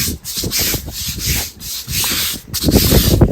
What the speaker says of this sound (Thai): แล้วก็เอา แปรงนี่แหละค่ะขัดเนี่ย